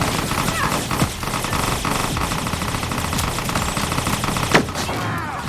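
Rapid automatic gunfire in Resident Evil: Resistance rattles continuously and loudly as shots are fired at a camera, with a few sharper bursts standing out over dense game noise.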